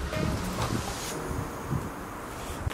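Wind blows outdoors in steady, broad gusts with heavy rumbling buffeting against the microphone, continuous and fairly loud throughout.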